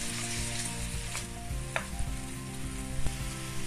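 Chicken fries in a pan with tomato for chopsuey, giving a steady close sizzle with occasional stirring clicks and scrapes, and no one talking over it.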